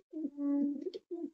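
Tournament-ready male pigeons in a loft give a close, soft rolling coo that swells and holds, then a short sharp note and a second brief coo after a pause.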